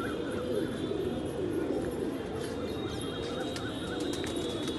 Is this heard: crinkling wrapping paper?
no